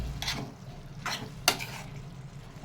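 Ivy gourd curry being stirred in a pan, three brief scraping, sizzling strokes spaced about half a second apart over a low hiss of frying oil, close and fairly quiet.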